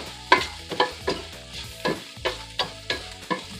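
Ramen noodle ingredients frying in a pan with a pinch of salt, stirred in a steady rhythm of about a dozen scraping strokes over a soft continuous sizzle, close up and with no talking.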